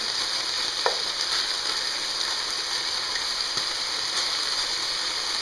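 Venison backstrap searing in a hot pan, a constant even sizzle at moderate level with a few faint clicks and taps over it.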